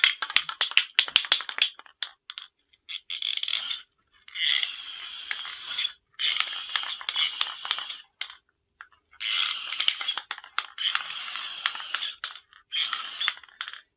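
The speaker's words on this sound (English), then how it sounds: "the reason I use a spray paint is it actually dries quite quickly" Repeated bursts of hissing spray paint, each a couple of seconds long with brief pauses between, close and steady, preceded by some light rattling, lightly dusting a wooden hand puppet.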